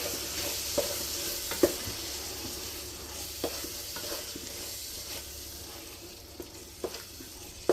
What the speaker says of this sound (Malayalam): കട്ടിയായ തൈര് ഇട്ട് കൊടുക്കുന്നു. അത് കഴിഞ്ഞ് നമ്മൾ മിക്സ് ചെയ്യണം